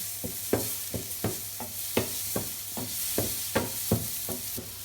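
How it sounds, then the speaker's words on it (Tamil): Steady sizzling of mango sautéing in a hot pan with regular scraping stirs, roughly two per second, close by and moderately loud. "இது கூட மாங்காவே நம்ம லேசாக வதக்க போகிறோம்"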